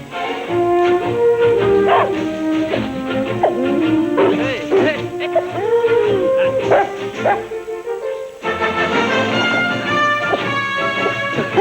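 A dog named Hercule barks and whimpers in a series of close, loud yips and whines, with a pause before a dense run of barking toward the end.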